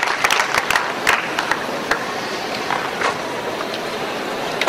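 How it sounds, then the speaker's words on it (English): Scattered claps from a panel audience at the Interop Mumbai 2009 Web 2.0 enterprise power panel, thin and uneven over steady room noise, with a few louder individual claps standing out. "A round of applause for the panelists."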